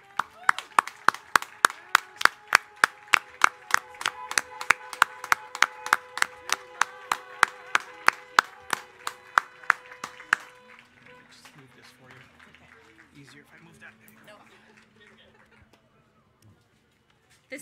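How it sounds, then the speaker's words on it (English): Graduation ceremony crowd applauding the graduating class of 2021 at a high school, starting with loud, rhythmic unison clapping in regular beats for about ten seconds, then breaking into scattered, fading applause and quiet murmuring that dies away. "a big round of applause for our graduating class of"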